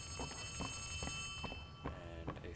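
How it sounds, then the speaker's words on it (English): A telephone rings in the horror video game Poppy Playtime Chapter 3, a loud, repeating bell-like trill that keeps going throughout, with faint footsteps beneath it. "And a phone is ringing."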